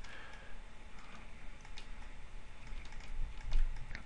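Computer keyboard typed on in quick, light clicks while editing in Photoshop, a steady patter of small taps over a quiet room hum, with no talking.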